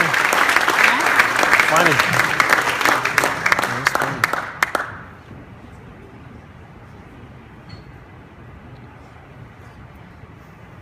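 A hall of fame ceremony audience applauds loudly and steadily for the inductees, a dense wash of clapping with voices mixed in that stops abruptly halfway, leaving quiet room noise and a brief spoken word.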